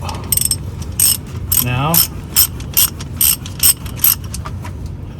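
A ratchet clicks in short, repeated bursts while loosening the drain bolt on a VW DSG transmission, crisp and close, with a single brief spoken word near the start.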